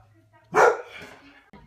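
One short, sharp dog bark sounds close by, with near silence before and after it.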